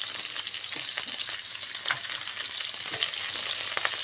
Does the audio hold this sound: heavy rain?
no